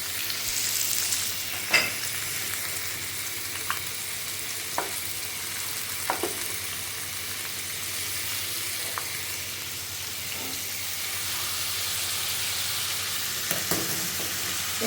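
Shrimp frying all at once in a pan, a steady close hiss of sizzling oil with occasional sharp pops and light stirring clicks throughout.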